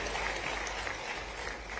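Crowd applause at a political rally, a steady wash of clapping from many hands that holds at an even level with no voices on top.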